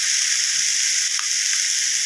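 Onion and tomato sauté in a pan, giving a steady, bright, hissing sizzle that runs continuously and fairly loud with no talking over it.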